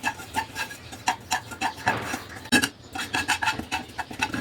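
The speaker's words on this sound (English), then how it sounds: "So we'll just dry roast this on low flame." Ginger dry roasting on low flame in a pan, heard as a steady scraping and rasping of a utensil stirring against the metal, repeated rhythmic strokes close up with no talk.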